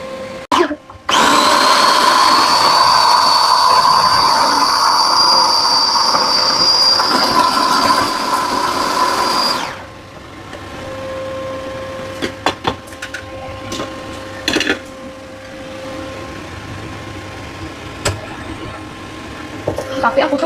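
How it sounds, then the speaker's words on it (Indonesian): Electric kitchen chopper grinding tomato and spices for a balado in a home kitchen, a loud continuous motor whine lasting about nine seconds, then stopping abruptly, followed by quieter scattered clicks and a faint tone. "jadi aku ini mau chopper aja deh ya biar cepet"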